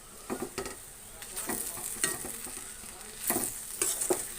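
Ivy gourd and grated coconut stirred in a hot pan, with a soft sizzle under repeated scraping strokes of a spoon against the pan, close up and moderately loud, no voices.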